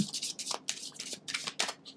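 Tarot cards are shuffled quickly by hand, producing a rapid series of soft riffling and flicking bursts, close and fairly quiet, with no talk.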